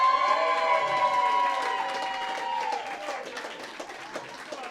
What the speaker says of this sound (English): Don't clap too loud, guys.